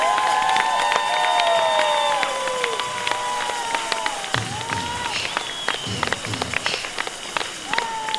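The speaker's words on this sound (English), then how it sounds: "Fantastic applause, please, for the Viennese waltz final." Audience applause at a ballroom dance championship grand final after the Viennese waltz, a crackling, sustained wave of clapping mixed with cheers and whistles, with a lingering musical tone at the start.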